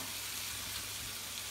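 Cauliflower manchurian gravy sautés in a pan with a steady, dense sizzling hiss up close, unbroken through the short stretch with no voice.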